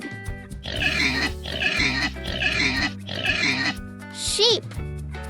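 A pig grunts and oinks in a run of four rhythmic snorts, close and loud over a cheerful children's music bed, ending with a short rising squeal.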